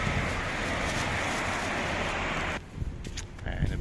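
Outdoor wind near shops in Bahrain rushes steadily and loudly across the microphone, then eases after a few seconds into quieter gusts with faint background activity.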